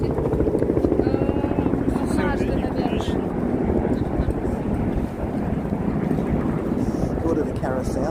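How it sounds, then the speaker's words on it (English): A helicopter flies overhead at Brooklyn Bridge Park in DUMBO, a continuous rumbling drone heard under outdoor crowd noise and nearby voices. "Helicopter up there."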